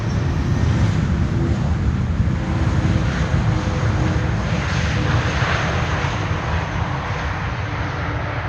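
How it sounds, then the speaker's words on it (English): An airliner landing in strong, gusty wind at Amsterdam Schiphol Airport gives a loud, steady jet roar that fills the whole stretch without easing, with no voices over it. "the first airplane that at least is looking to need to do some corrections, some additional corrections before the touchdown"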